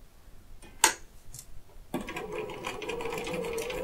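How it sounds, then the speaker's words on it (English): A sewing machine stitches a quarter-inch quilt seam, its fast steady whirring starting abruptly after a few clicks and sharp handling taps, then running continuously at close range to the end. "You sew a 1/4-inch seam"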